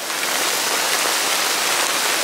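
A storm outside with rain and small peanut-sized hail makes a dense, continuous hiss of drops hitting surfaces, steady and fairly loud, with no voices.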